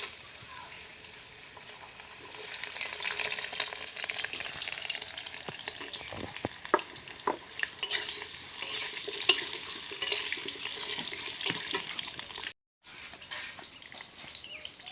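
Potatoes frying in hot oil with panch phoron, bay leaf, cardamom, cloves and cinnamon for a Bengali chicken curry, a soft sizzle with scraping stirs and clatters of a spoon against the pan, brief silence near the end.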